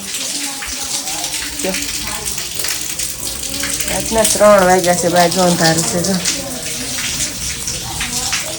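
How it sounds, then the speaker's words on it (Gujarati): Steady rain pours down at 3 a.m. during a power cut, a dense continuous wash of water hiss beneath a nearby voice talking. "વરસાદ તો ક્યારનો ચાલુ છે"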